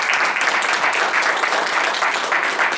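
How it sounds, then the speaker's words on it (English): An audience claps steadily after a speech, a dense, even wash of applause that holds at full strength throughout with no talking over it. "Let's clap some more for Philip."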